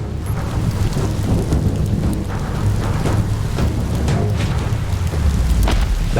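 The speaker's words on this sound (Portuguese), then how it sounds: "Ai, tá chovendo." Heavy rain pours steadily in the video game Biomutant while low rolls of thunder rumble through it, a loud, dense wash of storm sound with no voices.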